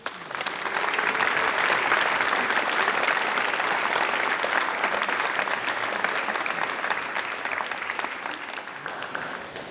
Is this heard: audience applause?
yes